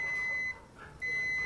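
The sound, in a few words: multimeter continuity test buzzer beeping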